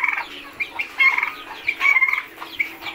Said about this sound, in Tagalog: Dito yung mga manok.